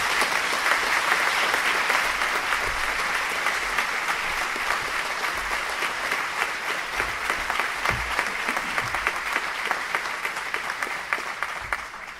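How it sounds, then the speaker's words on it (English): Loud, sustained applause from a synagogue congregation, many hands clapping densely and evenly, easing slightly toward the end with a few low thumps mixed in. "Please give him the applause he rightfully deserves."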